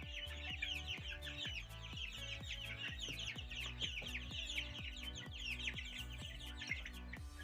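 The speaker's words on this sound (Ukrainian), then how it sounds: "Моя пташина ферма. І гендичата, і курчата різного калібру, різної його породу." Chickens of various breeds and young turkeys cluck and chatter continuously at close range on a poultry farm, several birds overlapping in a busy, steady barnyard chorus.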